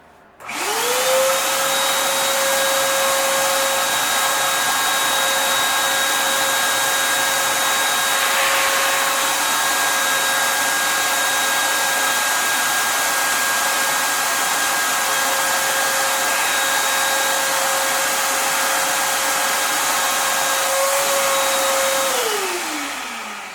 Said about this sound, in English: Get the vacuum and suck all that stuff out.